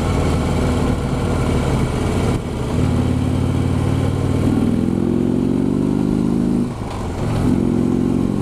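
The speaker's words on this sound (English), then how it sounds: "how smooth it is and how just fluent this bike will run" A 2016 Harley-Davidson Road King motorcycle engine running while riding, a loud close steady rumble that rises in pitch through gear changes, with a brief dip before picking up again.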